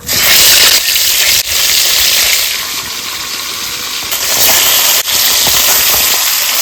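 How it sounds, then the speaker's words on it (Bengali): Pieces of chital fish frying in hot oil in a home kitchen give a loud, steady broadband sizzle with brief dips and crackles, and no voices. "মাছগুলো ভেজে নেবো"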